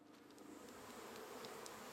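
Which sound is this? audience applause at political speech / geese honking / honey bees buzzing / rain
honey bees buzzing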